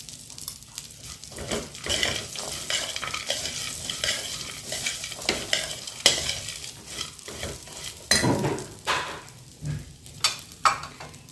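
Sesame seeds roast in a dry pan over medium heat while being stirred, making a close, continuous crackling sizzle broken by frequent scraping strokes, with no talk.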